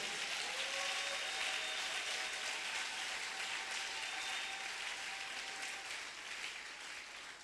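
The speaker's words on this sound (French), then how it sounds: "Acclame Jésus très fort là où tu es." A church congregation applauds loudly and continuously, a dense wash of clapping that holds steady and then eases slightly toward the end, with faint voices mixed in.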